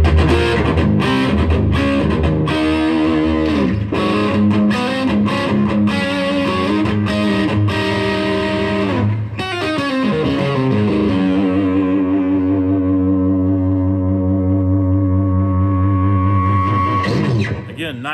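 A small distortion pedal pushed to high gain drives an electric guitar into loud, roaring chords with a boosted low end and sharp edge, then a long sustained ringing note with feedback that holds steady to the end.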